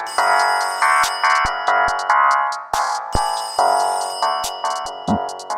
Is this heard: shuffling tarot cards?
no